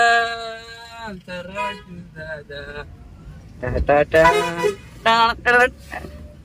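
Several loud, sharp car horn honks from a Maruti Eeco sound in quick bursts, close by, mixed in with voices talking over them.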